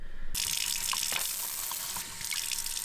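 A cold-water tap in a self-built camper van, fed by a submersible pump, opens and runs with a steady splashing hiss into the sink, close and continuous, without talk.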